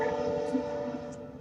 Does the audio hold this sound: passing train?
yes